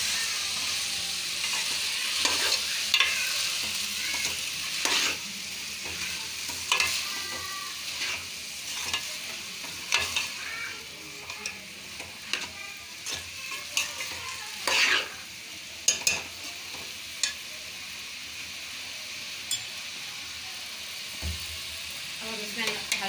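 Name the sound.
stirring green peas frying in a pan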